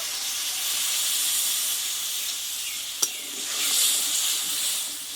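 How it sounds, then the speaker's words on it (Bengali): Hot water poured into soaked, cooking mung lentils sets off a steady hissing sizzle of steam, close and continuous, with one sharp click partway through. "এইবার এইখানে কিছুটা আমি গরম জল দিয়ে দেব"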